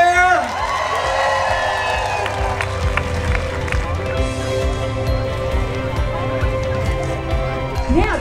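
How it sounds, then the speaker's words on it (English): A large outdoor crowd at a 5K charity race cheers and applauds cancer survivors, continuous clapping and whoops under an amplified voice and music. "I want to give a round of applause to all the survivors out there"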